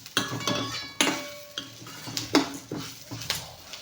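Mustard seeds and onions sautéing in a pan, heard as a series of distinct metal spoon clinks and scrapes against the pan, about eight knocks over a soft sizzle, close and fairly loud, no voices.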